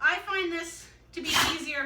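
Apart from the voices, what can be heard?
sneeze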